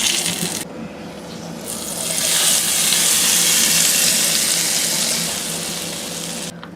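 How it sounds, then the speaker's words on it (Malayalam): A hot tempering mixed with sambar powder is poured into a pot of Kerala sambar, setting off a loud rushing sizzle that swells for a few seconds and then eases off, close up with no talk. "അപ്പോൾ 1/2 ടീസ്പൂൺ സാമ്പാർ പൊടിയും കൂടി ചേർത്തിട്ട് നമുക്കിത് നമ്മുടെ സാമ്പാറിലോട്ട് ഒഴിച്ചു കൊടുക്കാം."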